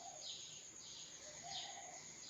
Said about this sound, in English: The melody of tripping birds is the background music of ours today